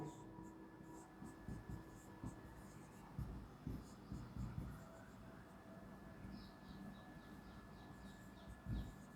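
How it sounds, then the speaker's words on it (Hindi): Someone writes letters by hand during a reasoning lesson, producing faint, close scratching and tapping strokes in irregular bursts over a low room hum. "एक बार और लिखता हूं"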